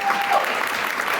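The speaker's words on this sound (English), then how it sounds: "Give this horrible host a round of applause." Audience applause at a voice actor convention panel, a brief burst of dense clapping from a crowd, loud and steady for just over a second.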